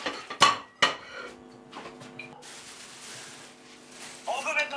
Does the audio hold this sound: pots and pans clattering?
yes